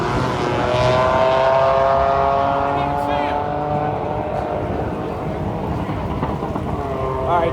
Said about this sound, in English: I guess they're heating the tires up